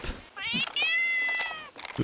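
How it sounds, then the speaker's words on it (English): A cat meows in a long, drawn-out wail during a session of the survival game Rust. Speech is also present, and the meow rises and holds for over a second close to the mic. "oh my god, the cat!"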